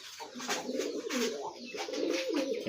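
Fancy breed pigeons in a new rooftop loft cooing, soft repeated rolling coos from a few birds overlapping, close but fairly quiet.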